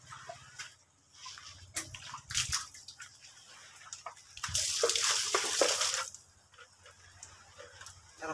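Cold water splashes and pours during bathing at a resort. Bursts of sloshing and dripping come and go, with one long loud gush in the middle, and faint voices sound in the background.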